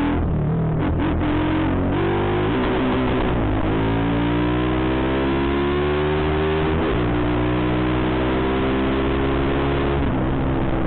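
A motorcycle accelerates hard through repeated gear changes, its engine pitch climbing in several sweeping runs before dropping at each shift, loud, close and aggressive throughout, with no one talking.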